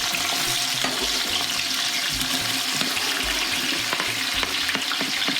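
Sweet onions hitting a hot pot for an Italian gravy, giving a steady, close, full hiss of sizzling that runs the whole time, with a few faint clinks of utensils and no talking.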